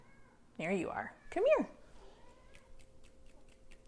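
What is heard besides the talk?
cat meowing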